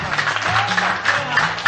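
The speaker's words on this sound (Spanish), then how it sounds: "Un fuerte aplauso por nuestro ídolo" An audience in Arequipa applauds their idol at a tribute, a brief burst of crowd clapping over a low sustained musical or vocal tone, fairly close and steady.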